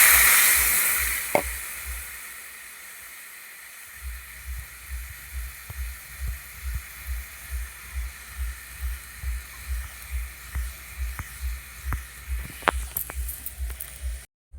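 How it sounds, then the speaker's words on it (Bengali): Water poured into a pan of frying potato and cauliflower curry, producing a steady hiss and sizzle with a rhythmic low bubbling pulse, close up and without talk. "এই যে এবার জল দিয়ে দিচ্ছি"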